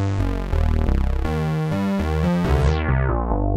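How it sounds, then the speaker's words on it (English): Crumar Stratus synthesizer playing sustained chords while its cutoff filter sweeps, brightening and darkening the tone, with a steady pulsing chorus texture, loud and alone. "This is the sound of the cutoff filter."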